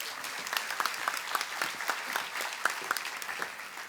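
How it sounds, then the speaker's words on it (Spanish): An audience at a public accounting congress in Colombia applauds a speaker with steady, crisp clapping. Individual sharp claps stand out within the sustained applause. "Un fuerte aplauso para él"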